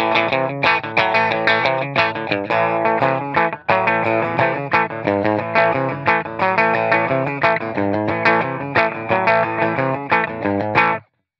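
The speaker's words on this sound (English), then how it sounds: "I'm going to start with the bridge pickup on the Telecaster with the single coils" Distorted electric guitar riff played first on a Telecaster's single-coil bridge pickup, then on a Telecaster Deluxe humbucker; loud, dense repeated chugging phrases with a brief break midway, no voices.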